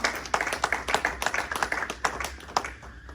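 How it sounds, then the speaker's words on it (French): A church congregation claps for the Lord together, producing rapid, dense rhythmic clapping close to the mic and continuing steadily throughout. "Can we clap for the Lord?"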